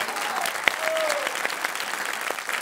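A studio audience on a Spanish-language talk show breaks into applause, a bright, dense wash of clapping with a sharp tone blip and faint thin whistles mixed in, steady across the short span.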